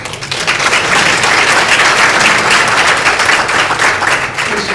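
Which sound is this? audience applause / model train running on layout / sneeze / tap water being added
audience applause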